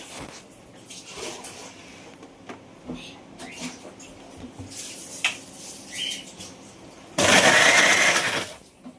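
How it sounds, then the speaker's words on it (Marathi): A mixer grinder grinding Bombay duck fish roars on in a loud, steady burst near the end, after a stretch of quieter kitchen noise and faint clinks. "मिक्सर लावू मिक्सरला आपण लावूया आता"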